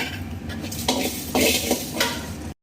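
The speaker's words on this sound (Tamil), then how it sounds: "வெந்தயம், மிளகு, சீரகம் இதை எல்லாத்தையும் ஒன்றா போட்டு ட்ரை ரோஸ்ட் பண்ணிக்கலாங்க" Fenugreek seeds, peppercorns and cumin dry roasting in a pan, heard as close metallic scraping and rattling from a utensil stirring the spices, with bursts of louder clatter and a faint crackle underneath.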